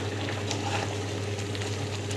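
A pot of food for a simple home recipe bubbling steadily on the stove under a lid, a soft continuous simmer with a low hum beneath, close and even throughout.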